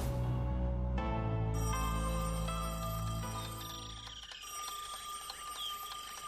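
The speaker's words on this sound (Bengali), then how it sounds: "বাটুলদা আমি ফোনটা ধরবো, ভগবান দা মনে হয় আবার ফোন করেছে" A cartoon telephone rings with bright, layered electronic tones that sustain steadily and stack up, fairly loud and close, with no talking over it.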